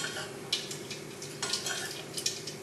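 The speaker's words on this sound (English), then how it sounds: "you start with mustard seeds and wait them to sputter" Faint crackling and popping of seeds spitting in hot oil, with scattered sharp pops over a soft sizzle.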